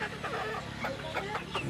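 Young Rhode Island Red chicks, about five weeks old, cluck and peep in a small group, several soft overlapping calls close by at an uneven rhythm.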